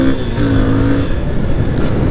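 Engine of a powerful Yamaha motorcycle, a loud steady close-up drone with a rough rumbling tone held throughout.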